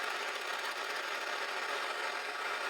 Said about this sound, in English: I could probably just cut this off with my bandsaw